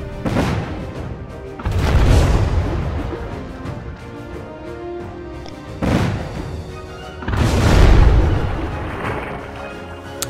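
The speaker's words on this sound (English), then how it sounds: "You sunk my battleship." Battleship explosions in the naval strategy video game Winds of Trade: four heavy booming blasts with rumbling decays, the second and fourth loudest, spaced irregularly over a quiet background, no talking.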